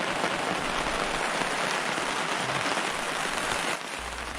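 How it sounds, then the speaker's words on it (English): Rain falling steadily as a dense, even hiss of drops hitting surfaces, loud and close throughout, easing slightly near the end. "The rain finally came."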